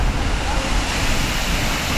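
Loud, constant rushing of falling water roars close by at Seljalandsfoss waterfall in Iceland, heard from behind the falls, a broad wash of noise with slight wind buffeting.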